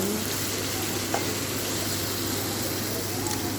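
Jackfruit pitha batter fries in hot oil in a wok, giving a steady, even sizzle that runs through the whole stretch at moderate loudness.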